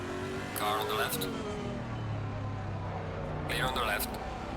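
Race cars in Assetto Corsa Competizione, engines droning and a car passing alongside with two bursts of higher revving whine, all under a voice talking throughout.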